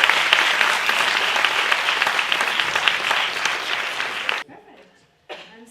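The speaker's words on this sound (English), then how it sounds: "a big round of applause," An audience at a talk breaks into a sustained round of loud applause that lasts about four seconds and then cuts off abruptly, leaving a faint murmur and a brief stir of noise.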